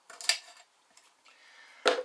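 Measured cucumber tipped into a container for aloe vera and shea butter soap making gives two brief clinks and a small rattle, near and quiet with no talk.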